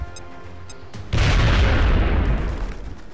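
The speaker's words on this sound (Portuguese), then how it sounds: "vamos começar tocando granada na boca deles" A grenade explodes in XCOM: Enemy Unknown with one loud, deep boom after a quiet moment, its rumble trailing off over the next couple of seconds.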